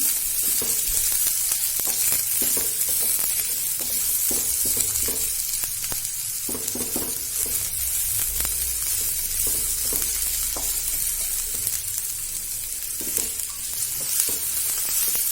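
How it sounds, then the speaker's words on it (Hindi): Onions sizzle steadily in hot oil while being fried dark brown for a mutton curry, a dense continuous crackle with occasional scrapes from stirring, close and fairly loud, with no voices. "अच्छा ब्राउन होने तक फ्राई कर लेंगे हम।"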